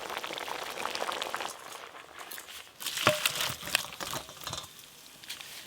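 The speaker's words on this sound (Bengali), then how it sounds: "এবার ঢেলে নেব।" Boiled jackfruit poured out of a pot, a rush of splashing water and clattering pieces with a few sharp knocks, moderately loud and close, then easing off.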